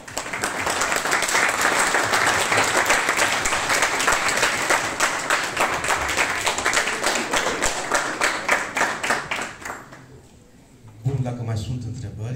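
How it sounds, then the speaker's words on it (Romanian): Audience applause at a poetry gathering with local writers in a high school in Crasna, steady and fairly loud at first, thinning toward the end and dying out before voices return. "dați-mi voie să vă aplaud"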